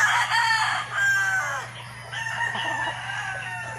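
A Verdugo line blue-face gamefowl rooster crows loudly and close by, its long call rising and falling over a steady low background hum on a farm.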